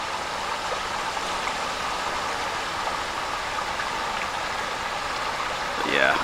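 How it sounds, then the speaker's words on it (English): A small waterfall in a stream in Swatara State Park makes a steady, broadband rushing wash that holds constant throughout, with a brief louder chirp near the end. "There's like a nice little mini waterfall up there."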